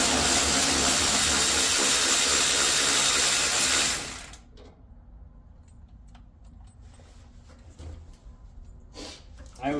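A hand ratchet loosening the brake caliper bolts on a 1971 Dodge Dart, a loud rapid clicking rasp for the first few seconds, then stops, leaving faint scattered taps and metal handling close by.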